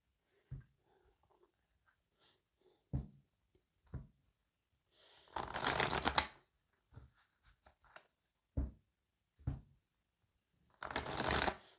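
Oracle cards being shuffled by hand: a few quick riffling bursts, the longest in the middle and another at the end, separated by sharp taps and faint handling noises in an otherwise quiet room.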